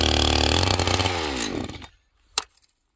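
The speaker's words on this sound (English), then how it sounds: "Notice, friends, I have a hard time starting the big saws." A big chainsaw started in sub-zero cold, its engine roaring loudly and close before winding down and dying after about two seconds, followed by near silence and a single sharp knock.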